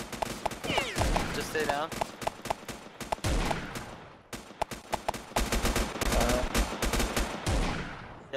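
Rapid gunfire from a shooter video game, with bursts of sharp, close shots and automatic fire cracking in quick rhythm while players talk over the action.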